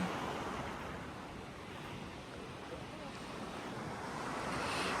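Steady wash of surf from a turquoise sea rolling onto a Crete beach, continuous and fairly loud, with wind buffeting the microphone throughout and no talking.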